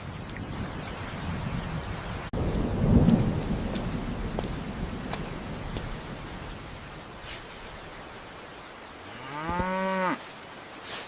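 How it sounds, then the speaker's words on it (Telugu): A steady wash of rain falls over a village, with a sudden crack and rolling rumble of thunder early on and a long cow moo close by near the end. "అమ్మో, వర్షం పడుతోంది."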